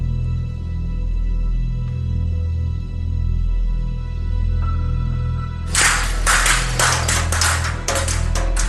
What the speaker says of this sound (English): the atmosphere is peppered with the almost constant sound of hammering